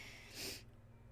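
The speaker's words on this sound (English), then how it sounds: "I'm so sorry for the sniffles." A single quick, breathy allergy sniffle close to the microphone, a short airy rush through the nose before fading to quiet.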